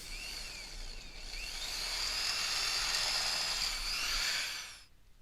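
Drill with a 3/16 bit boring a rivet hole into the aluminum mast of an American Sail 14.6 sailboat, a steady high-pitched whine close by that rises in strain midway and then stops.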